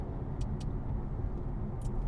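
A Dodge Charger 6.4 Scat Pack with its Hemi V8 rumbles in a steady, loud low-end drone, with a few faint metallic clicks over the top.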